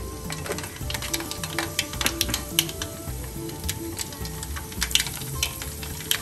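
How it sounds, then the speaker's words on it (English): Mustard seeds crackle in hot oil in a pan with dense, rapid popping and spitting that runs continuously at close range, over a steady background hum. "once the oil is hot, I'm supposed to put 2 teaspoons of mustard seeds"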